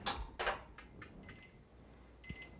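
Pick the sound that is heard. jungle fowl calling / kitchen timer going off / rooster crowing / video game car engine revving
kitchen timer going off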